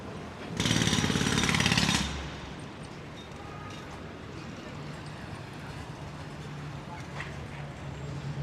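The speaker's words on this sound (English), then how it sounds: "Unlike this jackhammer across the streets." Jackhammer pounding at a construction site across a New York City street, a loud dense burst lasting about a second and a half, then fading into steady distant city traffic noise.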